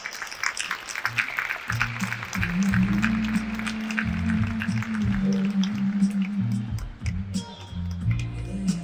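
Audience applause welcoming a speaker at a business presentation event, scattered claps running under a low music bed, moderately loud and continuous.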